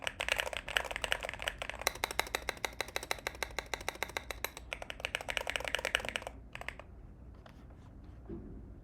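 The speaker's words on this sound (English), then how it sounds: "Does my keyboard sound normal too" Rapid typing on a computer keyboard runs continuously through most of the stretch, dense clicking fairly close and loud, then thinning to a few scattered keystrokes before falling quiet near the end, with no one talking.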